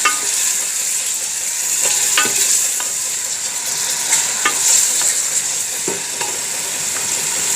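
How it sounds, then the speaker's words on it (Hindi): Chicken frying in a pan for khichra daleem, a steady loud sizzle with occasional scraping stirs and clinks throughout, no talking. "इसको मैं फ्राई कर लूँगी थोड़ी देर"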